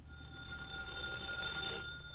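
An old-fashioned telephone bell rings in an old-time radio drama, a faint, continuous metallic trill lasting about two seconds before it stops, with no talking over it.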